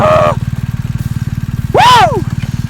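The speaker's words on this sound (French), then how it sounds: "Écoutez-moi ce démarrage moteur" A BMW R1250 GS boxer-twin motorcycle engine turns over and settles into a steady, throbbing idle with fast regular pulses, close and loud, while someone speaks briefly over it at the start and again near the end.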